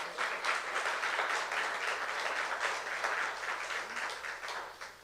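A church youth-service congregation breaks into applause, a dense, sustained wash of many hands clapping together in a hall, fairly distant and even, fading slightly at the end.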